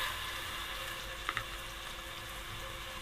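Garlic and ginger paste frying lightly in oil makes a faint, even hiss with a couple of brief soft pops midway, heard alone and quiet throughout.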